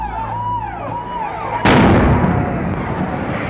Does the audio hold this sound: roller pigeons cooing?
no